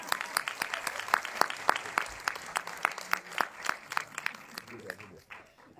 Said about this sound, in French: Alors, on peut applaudir